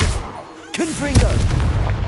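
Confringo blasting spell in Hogwarts Legacy, a close, loud booming blast after a short lull, followed by a sustained rumble and scattered crackling. A voice can be heard mixed in.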